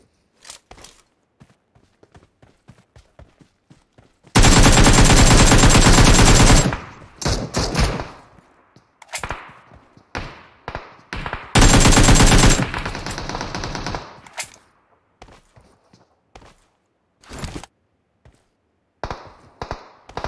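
Two long bursts of automatic gunfire from PUBG Mobile, loud and dense, separated by scattered single shots, taps and footsteps with gaps of quiet between them.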